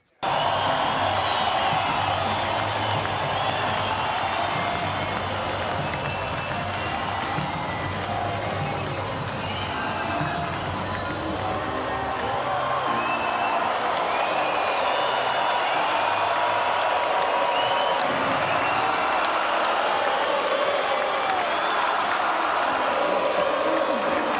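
A large arena crowd in Rio gives a sustained ovation with roaring cheers and shouts at a UFC event for Jose Aldo's retirement, a dense, steady wall of noise lasting throughout with scattered louder whoops.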